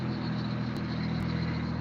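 A car engine idles steadily after being started, a continuous low rumble with a faint high whine, fairly close and unbroken for the whole stretch.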